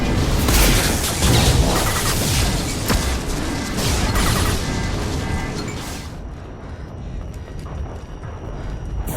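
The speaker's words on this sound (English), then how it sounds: "Watch out, flashbangs!" Flashbang blasts going off in Mass Effect 2's Lair of the Shadow Broker fight, a dense run of loud cracking bursts and crashing noise over several seconds that cuts to a thin ringing whine near the end.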